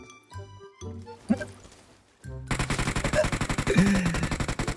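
Rapid automatic gunfire in PUBG Mobile, loud close bursts hammering in a fast steady rhythm after a few scattered single shots and clinks.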